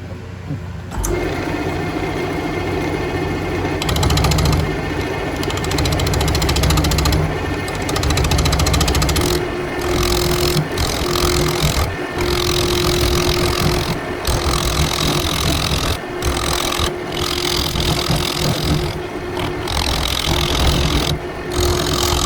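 A woodturning lathe cleans up the bottom of a blackberry root, a continuous loud rumble with repeated scraping bursts and brief interruptions as the tool bites into the spinning wood.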